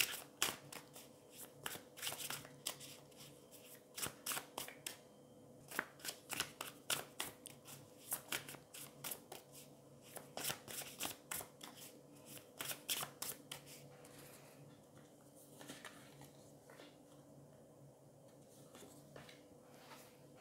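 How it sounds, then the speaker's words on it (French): Tarot cards are shuffled and drawn, giving a long run of quick, close crisp riffling flicks in bursts that thin out toward the end, with no voices. "on va aller prendre 2 autres cartes"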